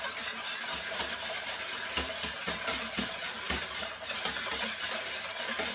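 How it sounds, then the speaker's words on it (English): Lemon curd mixture is stirred in a pan on the hob until melted, giving a soft continuous scraping and faint sizzle with light spoon taps against the pan, quiet and close. "You stir this until it's all melted."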